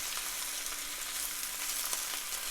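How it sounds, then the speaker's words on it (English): Broccoli greens sizzle steadily in a hot pan while being stir-fried for a shrimp stir fry, a constant dense crackle close by with faint stirring scrapes and no talking. "Just keep stirring. Don't let anything get away on you."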